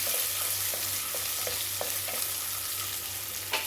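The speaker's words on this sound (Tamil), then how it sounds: "நான் சின்ன வெங்காயம் கொஞ்சம் போடுவேன் கூடையே பூண்டு நல்லா வதக்கி எடுத்துடலாம்" Small onions and garlic sauté in sesame oil for a village-style fish curry, a dense, even frying crackle with soft, regular stirring scrapes running throughout.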